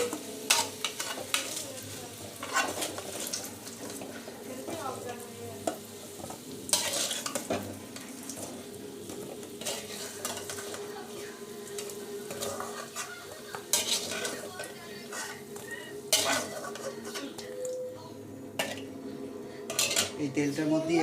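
Boiled potatoes being lifted out of hot frying oil, with a steady sizzle under repeated clinks and scrapes of a metal utensil against the pan.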